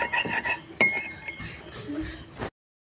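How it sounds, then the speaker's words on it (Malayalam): Lemon juice being stirred into an aloe vera mixture in a glass bowl, with repeated clinks and taps of a utensil against the container, brisk and close, ending abruptly. "നാരങ്ങ പിഴിഞ്ഞൊഴിക്കാം. നന്നായി മിക്സ് ചെയ്ത് കൊടുക്കാം."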